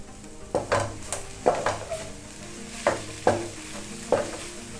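Rice being mixed with squeezed lime juice in a pan, heard as six or so distinct scraping stirs at an uneven rhythm, close and moderately loud, with a faint sizzle underneath and no talking.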